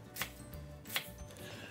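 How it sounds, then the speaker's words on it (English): Two sharp knife strikes on a cutting board as vegetables are chopped into little pieces, evenly spaced and fairly close in a quiet kitchen. "We're gonna get started by chopping up all the veggies into little pieces"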